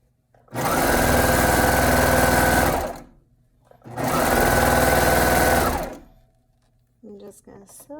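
A sewing machine stitches arm warmer fabric in two loud, steady runs of about two seconds each with a short pause between them. Light handling noise follows at the end.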